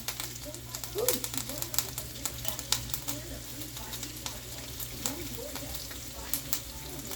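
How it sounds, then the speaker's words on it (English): Fresh thyme sprigs crackling and popping in hot oil in a pan, a steady close sizzle with scattered sharp pops throughout. "Careful, it does pop once it hits that oil"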